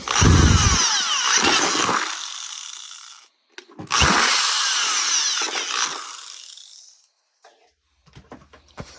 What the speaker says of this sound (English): We're going to mark it and drill through again.